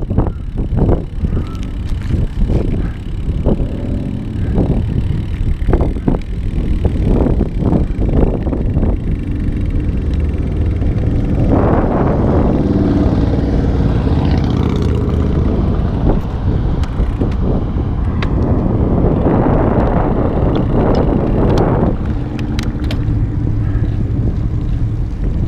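Steady wind rush and low rumble while riding a Kestrel road bike on an autumn road into a headwind, loud and continuous throughout, with a few brief sharper knocks and rattles from the road mixed in.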